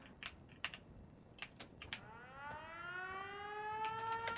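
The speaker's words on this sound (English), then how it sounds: "we're going to start our siren" A civil defense siren winds up in Fallout 4, rising steadily and growing louder after a run of sharp keyboard typing clicks at the start.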